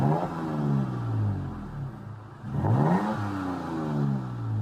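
A Toyota Tacoma TRD Pro engine revs up and eases off twice through dual MagnaFlow mufflers, a close, steady exhaust roar with no talking.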